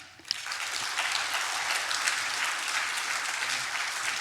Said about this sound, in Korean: 나오실 때 우리 박수로 힘차게 환영하겠습니다.